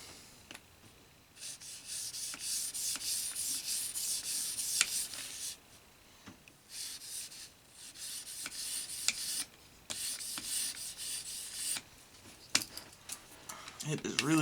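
A knife blade rasps back and forth across an EdgePro Apex sharpening stone in repeated strokes lasting a few seconds each, with short pauses between them. The scraping is close and fairly steady, with faint ticking in the background.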